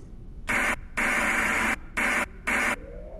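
Morse code tones in the video game Do Not Open, four loud bursts of radio static of differing lengths separated by short gaps, carrying a dot-dash pattern over quieter background hiss.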